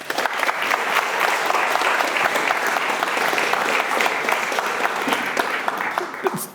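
Audience applause at an evening lecture welcoming the speaker, dense steady clapping from a large crowd, loud and sustained throughout before tapering slightly at the end.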